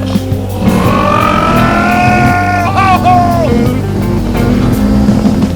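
A loud, close motorbike engine revs and whines in rising, falling pitch sweeps over a steady low rumble, like a toy or game sound effect, with no talk.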